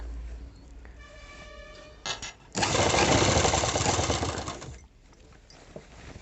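An electric sewing machine stitches an embroidered blouse, running in short bursts and then a loud sustained whir of rapid needle strokes before slowing to quiet clicks.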